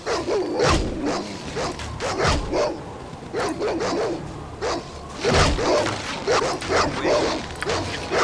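Dogs bark in rapid, repeated yaps and growling bursts during a fight in the video game Baldur's Gate, overlapping combat noises at moderate loudness for several seconds.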